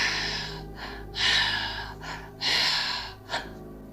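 A voice imitates a very loud sigh with several forceful, breathy exhalations in uneven bursts, close and alone with no other sound.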